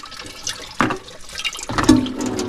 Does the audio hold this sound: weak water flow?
yes